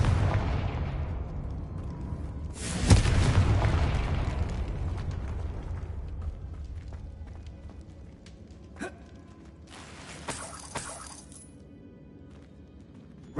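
A Confringo fire spell bursts in Hogwarts Legacy with one loud, booming blast, its rumble fading over a few seconds, followed by a few smaller crackling pops later on.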